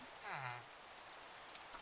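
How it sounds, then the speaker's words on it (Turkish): Rain falls in a Skyblock block-building game as a steady, soft broadband hiss throughout, with a voice speaking briefly near the start over it. "yağmur yağdı"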